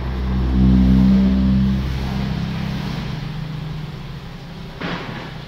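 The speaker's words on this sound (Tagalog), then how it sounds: "Ngayon ay lilipat na yung sasakyan." A car rolling into the oil change bay of a service shop, its engine rumbling low and steady at close range, swelling briefly then settling into an even idle hum, with a short knock near the end and no talking.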